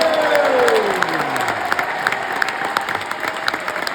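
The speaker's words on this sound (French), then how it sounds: "je veux entendre déjà des petits applaudissements" Loud, steady applause from an audience, many hands clapping together, with a falling whistle-like tone fading at the start.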